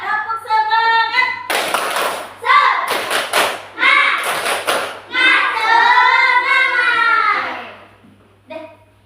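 Sixth-grade class in an Indonesian school doing a rhythmic clap chant, sharp group claps and thumps in bursts mixed with children's chanting voices, loud and close with a teacher's voice around it.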